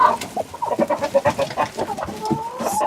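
A broody hen sitting on turkey eggs clucks in a steady series of soft, close, rhythmic notes, alone and without talk.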